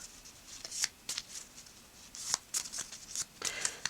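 Tarot cards being shuffled by hand: a quick series of close, crisp riffling bursts and soft slaps in irregular rhythm, quiet overall with no talk.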